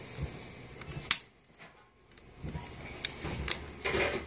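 SATA data and power cables being pushed into the hard drive sockets of a Dell OptiPlex desktop, giving a few sharp plastic clicks and faint scraping handling noises in a quiet room.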